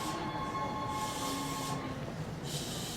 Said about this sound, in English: Just like this train. It's going up towards Tokyo Station.